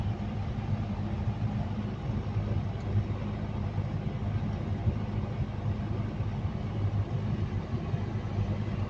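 A CAT 320D2L excavator engine runs at a steady idle during an RPM check, giving an even, continuous low rumble with no change in pace throughout.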